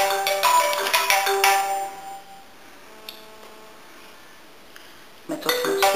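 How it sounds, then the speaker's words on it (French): A mobile phone ringtone plays loudly with bright repeated tones for about two seconds, fades to a faint sustained ring, then sounds again near the end, indoors with some clinking. "Pourquoi à chaque fois que je fais une vidéo, il y a mon téléphone qui sonne?"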